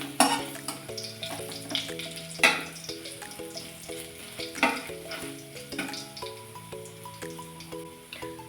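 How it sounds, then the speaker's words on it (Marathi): Crushed garlic sautés in oil with cumin for a dal-chili dish, a soft sizzle with spatula stirring scrapes and light clinks under steady melodic background music. "थोडासा लालसर कलर येईपर्यंत लसूण परतून घ्यायचं."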